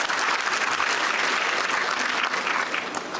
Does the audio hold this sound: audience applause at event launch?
yes